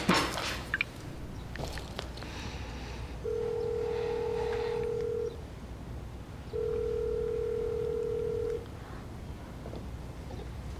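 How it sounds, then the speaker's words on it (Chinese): A telephone line sounds during an office call attempt: two steady, moderately loud tone bursts about two seconds each with a pause between, over faint room noise, with no talking. "我可以给周川老师打电话"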